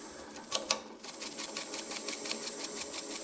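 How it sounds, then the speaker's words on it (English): A dry rag buffs a cherry wood bowl that has holes in it, making a close, steady whirring with a fast rhythmic pulse and a couple of brief louder catches near the start. "So this rag is dry, so I'm going to use it to kind of buff things out with here."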